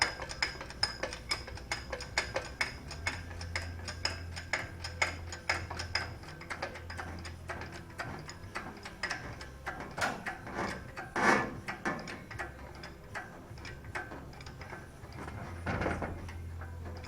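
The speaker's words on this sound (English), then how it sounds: "So I'm going to start cranking on this jack and let's see what happens here." A car jack is cranked under the bed of a 1999–2006 Chevy Silverado, with fast repeated clicks and ratcheting close by, a low hum, and a few louder knocks and scrapes.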